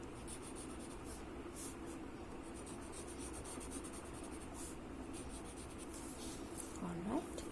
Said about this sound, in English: I'm just going to lightly put the graphite down.